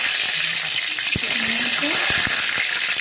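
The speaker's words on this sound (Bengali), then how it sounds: "তেল দিয়ে এখন ফোড়নগুলো দিয়ে দিব।" Whole spices, bay leaf and panch phoron, hitting hot oil in a pan give a steady close sizzle and crackle, with a few sharp pops and a voice speaking over it.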